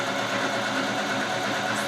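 A sewing machine stitches a quarter-inch seam on shirt fabric, giving a steady, continuous whir that runs unbroken at close range with no talking.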